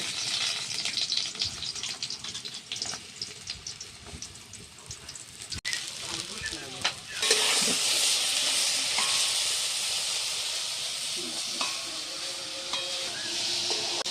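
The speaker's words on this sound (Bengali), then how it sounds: "এবার আমি ঝিঙে কুচিটা দিয়ে দিচ্ছি ঝিঙেটাও ভাজা ভাজা করে তুলে নেব" Chopped ridge gourd sizzling in oil, with stirring and scraping, then a louder burst of hissing frying that stays steady to the end.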